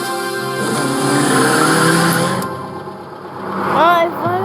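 Car driving in a French film, a steady engine drone with harmonic hum building and easing, overlaid by tire squeal and a brief rising whine near the end, with film audio mixing in.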